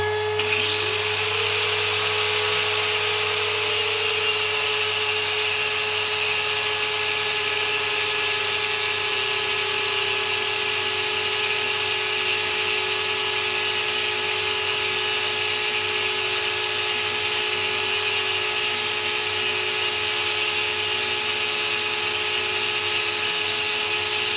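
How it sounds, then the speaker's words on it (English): Cordless angle grinder with a flap disc grinding metal, a steady high-pitched whine held continuously at close range for the whole stretch, with no talking. "we take our little die grinder, not die grinder, regular angle grinder with a flap disc, and we go"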